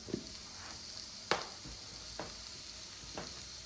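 Goat steak sears in a hot pan, a soft steady sizzle with a few sharp crackles and spits spaced out over a quiet background.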